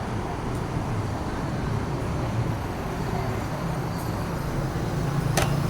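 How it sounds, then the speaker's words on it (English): Steady street traffic in Singapore's Little India with a bus among the vehicles, a continuous low engine and road rumble holding even throughout, with a brief sharp sound near the end. "This is Singapore bus."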